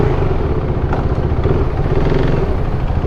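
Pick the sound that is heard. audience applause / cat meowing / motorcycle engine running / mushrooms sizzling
motorcycle engine running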